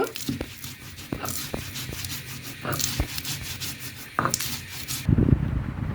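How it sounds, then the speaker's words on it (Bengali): Peanuts, onion and garlic being ground into a paste for a peanut bharta, a close, steady rubbing and scraping with irregular knocks, ending in a heavier thump. "এবারে বাদাম আর পেঁয়াজ একসাথে রসুনটা বেটে নেব"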